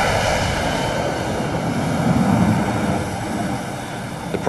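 Jet aircraft roar over an aircraft carrier deck at sea, a dense, loud, continuous rush of engine noise and wind that swells slightly midway.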